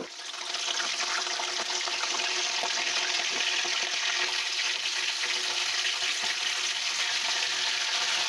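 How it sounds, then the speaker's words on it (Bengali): Cauliflower florets fry in hot oil for an aloo phulkopi dalna, giving a continuous bright sizzle and hiss. The sound holds steady and close throughout, alone with no voices. "তার জন্য প্রথমে ফুলকপিগুলি ভেজে নেব।"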